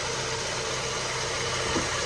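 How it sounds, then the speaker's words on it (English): A 2012 Honda Civic engine idling quietly after an engine flush, a soft, steady low hum with faint even vibration and no other sounds. "the engine sounds really quiet. Like when you listen to this, it sounds really quiet"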